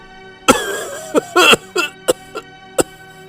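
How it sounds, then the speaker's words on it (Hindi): Loud, repeated coughing from an elderly man in a cartoon moral story, several harsh bursts in a row with a short gap between them, close and alone. "इतना कहकर धर्मपाल फिर से जोर से खांसने लगे।"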